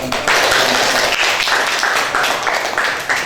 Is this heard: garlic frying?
no